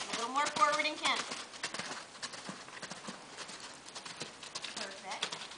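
Horse cantering during a riding lesson, a rhythmic run of hoofbeats heard from a distance with a voice calling instructions over them.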